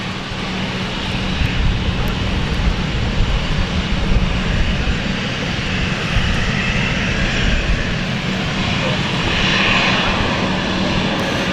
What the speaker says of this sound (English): Amsterdam flight, second Amsterdam departure for today.